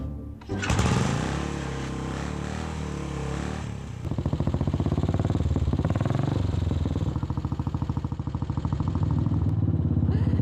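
An old motorcycle engine cranks and catches, then runs with a loud, rapid, lumpy idle that throbs steadily close by.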